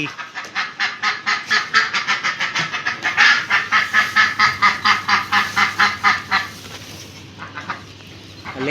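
A loud, rapid run of duck quacks in a steady rhythmic series, close by, tapering off toward the end with a few scattered calls.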